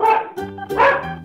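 A dog barking twice in quick succession, loud and close, each bark short with a tonal, yappy quality.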